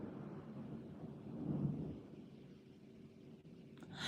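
Low, distant rumble of thunder rolling beneath a quiet outdoor scene ahead of rain, swelling briefly at mid-clip then fading, with faint rustling at the end.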